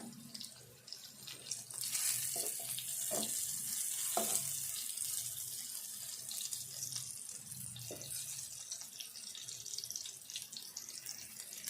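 Bitter gourds fry steadily in a pan of oil, a continuous close sizzle and hiss with a few brief clatters as the pieces are turned over.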